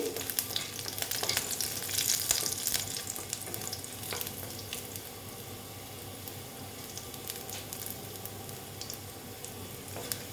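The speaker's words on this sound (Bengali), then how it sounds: "তারপরে দিয়ে দিলাম রসুন দিয়ে একটু ভেজে নিচ্ছি" Garlic with black cumin seeds frying in a pan for red amaranth greens, giving a steady soft sizzle with occasional stirring scrapes throughout, close and fairly quiet with no voices.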